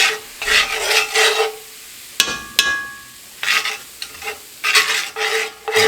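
Flour stirs and cooks in a cast iron skillet for a beef pot roast roux, a spoon scraping in repeated close strokes with a light sizzle and two sharp clanks from the pan midway.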